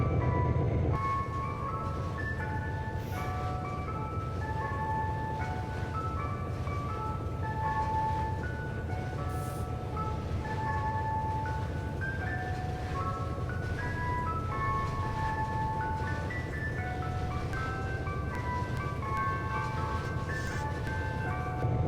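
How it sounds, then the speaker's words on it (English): Ice cream truck jingle playing a steady, looping melody of bright bell-like chimes, continuous and fairly loud throughout with no pauses. "It sounds like an ice cream truck."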